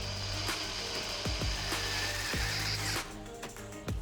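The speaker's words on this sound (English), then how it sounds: "We're gonna mark out where to drill holes." Power drill boring holes during construction of a beehive-shaped bungalow built from a concrete truck, with repeated short whirring bursts and spin-downs, close and fairly loud, amid clanking tool and workshop noise.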